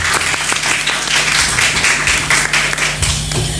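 A school audience applauds student council candidates at a debate, close and loud clapping with a low hum from the venue's sound system underneath, sustained throughout.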